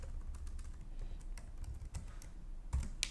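Someone types on a computer keyboard in quick, uneven bursts of light clicking, close and quiet, with no talking.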